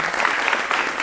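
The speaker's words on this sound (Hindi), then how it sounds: "जोरदार तालियों के साथ आप उनका स्वागत करें।" Studio audience applause welcoming guests on a Hindi political debate show, loud, dense clapping from many hands that stays uniform for the whole moment.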